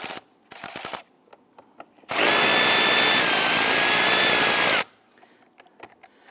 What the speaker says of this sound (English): we're going to go ahead and loosen our hose clamp here using an 8mm socket